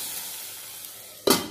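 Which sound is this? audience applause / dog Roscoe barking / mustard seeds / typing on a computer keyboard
mustard seeds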